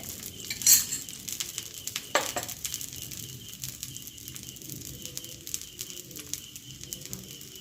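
A masala dosa fries in oil on a pan, with a soft, steady sizzle under occasional light clinks of a utensil and a couple of brief louder clatters, close by and with no speech.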